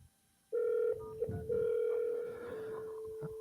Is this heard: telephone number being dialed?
yes